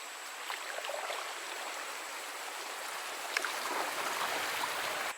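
River water rushes and trickles around a canoe as it shoots through a narrow gap on the Tar River, a continuous close wash with a few splashy paddle knocks and no talk.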